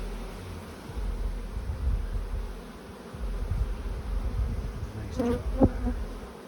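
Honeybees hum steadily around hive frames during a beekeeping inspection, a close, continuous buzzing swarm with a brief spoken remark near the end.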